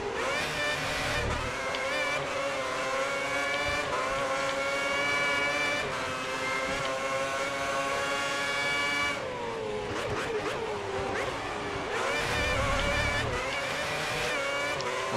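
Formula 1 car engine in the F1 2010 racing game with a 2009-season mod at Melbourne, a continuous high-pitched whine with shifting harmonics as the car accelerates and changes gear, loud and steady throughout.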